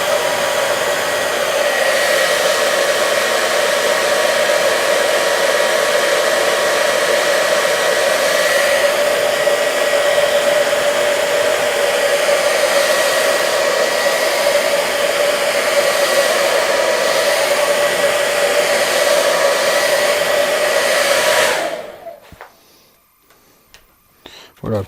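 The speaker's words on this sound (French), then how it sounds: "Je vais remettre un coup de sèche-cheveux." A hair dryer blows in a steady, loud, continuous whoosh for over twenty seconds, close by, then shuts off abruptly, leaving near silence.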